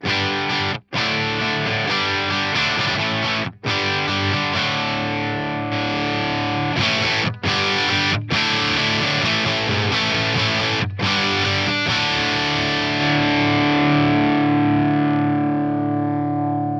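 A heavily distorted electric guitar plays chords and riffs through an amp and cab simulator, with short pauses between phrases and a sustained ringing note near the end.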